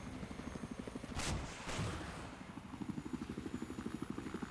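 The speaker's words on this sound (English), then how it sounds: "Oh, helicopter again." A helicopter in a video game thumps with rapid, rhythmic rotor chops, faint and fairly distant, with two brief whooshing bursts partway through before the steady beating resumes.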